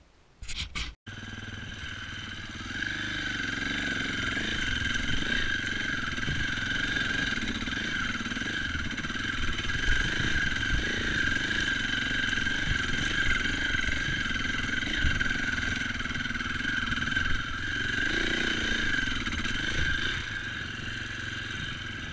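An enduro motorcycle engine runs steadily on a hill trail, a continuous close drone with slight rises and falls in revs after a brief clatter at the start, no talk over it.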